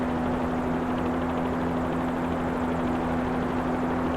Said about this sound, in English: definitely the nicest Bell 47 that's come out for Microsoft Flight Simulator